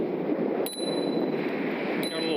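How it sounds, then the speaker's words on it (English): A small bell on an electric scooter, the 5th Wheel V40 Pro, rings twice in quick succession with bright dings over steady rolling and wind noise while riding. "Got a little bell on there."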